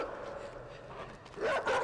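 A dog in the side-scrolling game INSIDE gives a sharp bark and whimpering yips near the end, loud and close after a muffled stretch of ambient game noise.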